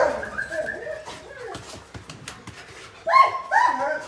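Elsa, a bandog or pit bull dog in a kennel yard, gives a few short whimpers and yips up close, followed by two louder barks near the end.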